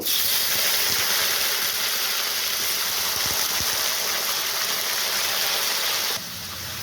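Teasel gourd pieces frying in hot oil with nigella seeds give off a steady, loud, broadband sizzle and hiss that holds evenly for several seconds, then drops slightly softer near the end, with no voices.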